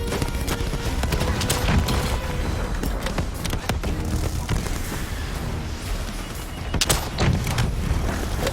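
Dense, continuous gunfire and explosive booms from a Call of Duty Black Ops 3 boss fight, loud and sustained throughout with heavy rapid bursts and occasional sharp blasts, with only faint traces of voices beneath.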